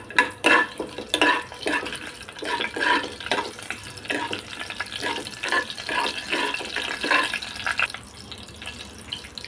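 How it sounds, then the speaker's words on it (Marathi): Whole spices are stirred in hot oil in a pressure cooker for veg pulao, producing a soft sizzle broken by rhythmic, close scraping strokes of a spoon against the pot. "थोडंसं परतूया."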